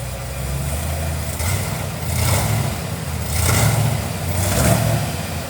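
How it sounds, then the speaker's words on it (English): Revving engine of a barn-find vehicle with a dual 3-inch full stainless exhaust, rising in three swells over a steady idle and bogging slightly, close and loud with no talk. "Give it a little rev."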